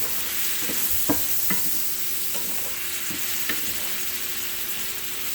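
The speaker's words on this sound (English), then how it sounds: "now that the shrimp are done, we can go ahead and toss it" Cooked shrimp are tossed in a hot pan, giving a continuous soft sizzle broken by several sharp scraping and clattering stirs at irregular intervals, with no talking.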